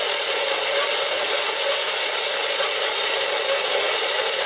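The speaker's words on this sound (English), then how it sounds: "I'm going to go cut this on our bandsaw." A bandsaw slices through an exhaust pipe for a rat rod, a steady, loud high-pitched metallic whine and hiss running unbroken and close throughout, with no talking.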